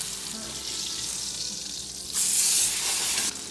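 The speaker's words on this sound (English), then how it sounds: "Very important to sear all sides." Pork sears in a hot pan with a continuous close hiss and sizzle that briefly swells louder and brighter near the end.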